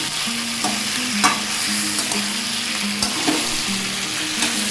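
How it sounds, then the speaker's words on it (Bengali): Mutton curry sizzling in oil in a pan while being stirred, with a continuous frying hiss broken by periodic scraping strokes, close up and with no one talking. "মাংসটাকে একটু কষে দিচ্ছি"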